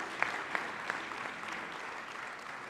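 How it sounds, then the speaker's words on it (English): Applause from an audience at a national higher-education strategy launch event, a faint, distant, even patter of clapping with a few sharper claps near the start. "A big round of applause, ladies and gentlemen."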